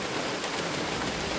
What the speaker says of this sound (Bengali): দেখো বৃষ্টি, কি জোর বৃষ্টি পড়ছে আবার